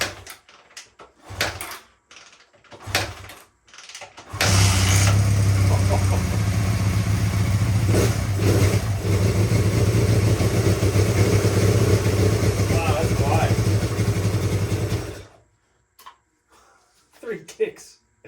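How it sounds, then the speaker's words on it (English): A 1979 Honda Twinstar motorcycle that had sat unused for over 30 years, kicked over with the choke on: a few sharp thumps, then the engine catches and runs roughly for about ten seconds before cutting out. "we're gonna kick it over, see what happens"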